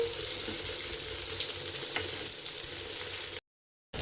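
Fish frying on a tawa over a low flame, a dense, steady sizzle and crackle close up that runs unbroken before cutting off abruptly near the end.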